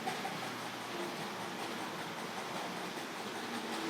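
A continuous rumbling rush of a model train rolling along track, steady and fairly faint throughout.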